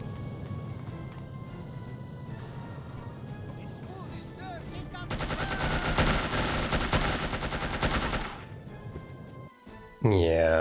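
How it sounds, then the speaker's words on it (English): Video-game gunfire in No One Lives Forever rattles as a sustained machine-gun burst of rapid, evenly spaced shots lasting about three seconds, preceded by game sounds and talk, then ending with a sharp impact. "I think one of them was shooting through the curtain"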